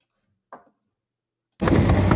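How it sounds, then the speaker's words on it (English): Gunfire in a Nigerian street with police nearby: after a near-silent stretch and a faint brief sound, one loud, sharp blast erupts close by and rings on heavily to the end. "What you are hearing is sound of gunshot too."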